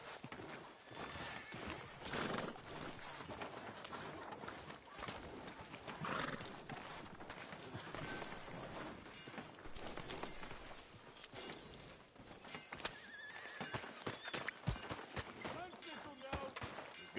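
Horse hooves clip-clopping at a steady walking rhythm in the video game Red Dead Redemption 2, with occasional whinnies and a background ambience, faint and continuous under voices.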